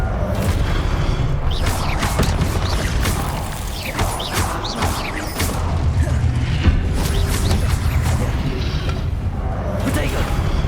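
Repeated Confringo fire-spell blasts in Hogwarts Legacy gameplay, a steady run of booming, crackling explosions and impacts layered with dense combat effects, with no pause across the whole stretch.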